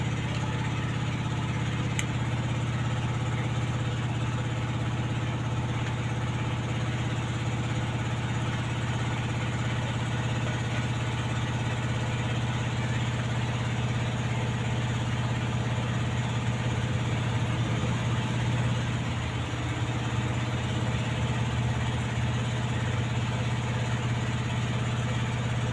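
A gasoline generator engine runs steadily after a new spark plug is fitted, giving a constant, even mechanical drone that stays at the same level throughout with no voices.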